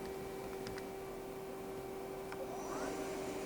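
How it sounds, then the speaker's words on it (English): Spindle of a 2013 Samsung SL-20/500 CNC turning center spinning at 500 RPM, a steady, even mechanical hum with a faint whine over a broad background whir and a few small ticks. "Now we'll go to the spindle over here. That's 500 RPM."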